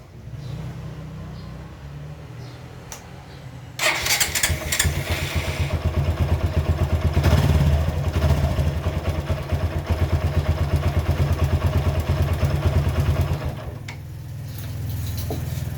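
A motorcycle engine fitted with a burnt but still working spark plug fires up after a quiet lead-in, then idles with a loud, close, rapid rattling thrum before cutting back to a low hum.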